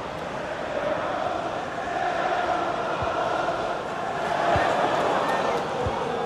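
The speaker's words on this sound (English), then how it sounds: "And Neymar being egged on by the crowd." A stadium crowd cheers and roars in the background during a Brazil World Cup 2022 match in the video game FIFA 23 on PS5, swelling at times, with a few dull thumps.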